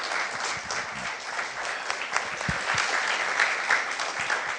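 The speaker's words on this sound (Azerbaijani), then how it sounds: "Alqışlarınız." An audience applauds at a ceremony, with steady, close, crisp clapping throughout, individual sharp claps standing out and no speech over it.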